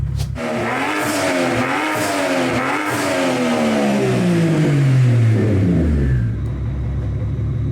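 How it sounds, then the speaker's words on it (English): A rough-running car engine that sounds like a muscle car, apparently trailing oil smoke, runs loud and continuous; its pitch swings up and down, then drops steadily as the engine winds down and settles near the end. "She's idling very, very weird. Sounds like a muscle car."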